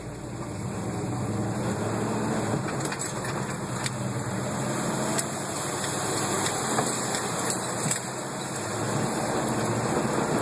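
A vehicle engine idles after being driven through water, a steady low rumble under a constant hiss, with a few faint clicks and ticks scattered across the stretch, no talking.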